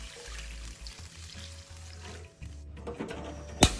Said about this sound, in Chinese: 再将锅里的油倒出，原锅不需清洗，倒入适量清水